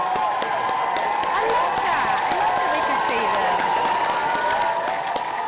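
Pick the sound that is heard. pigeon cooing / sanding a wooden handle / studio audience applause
studio audience applause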